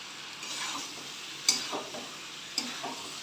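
Green jackfruit frying in a pan for a vegetarian muri ghonto dish, a soft quiet sizzle with a couple of sharp spatula scrapes and knocks as it is stirred, close and without talk.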